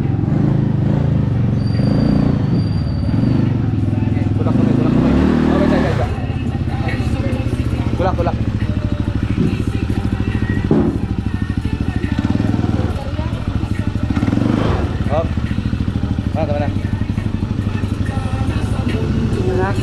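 A remapped Yamaha Nmax scooter engine revs loudly and continuously, its note rising and falling over about 20 seconds, with rough mechanical clatter running through it.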